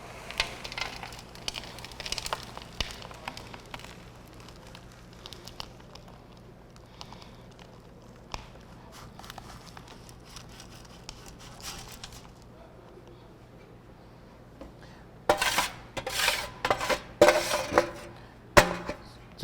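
Damp concrete mix being scooped and scraped from a curved pan into a mold, with soft scrapes and light taps throughout and a burst of louder knocks and clatter near the end.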